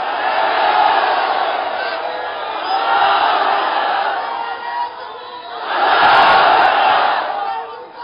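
A crowd at a Bengali Islamic sermon gathering roaring a takbir chant, rising in loud, swelling waves of many voices shouting in unison three times.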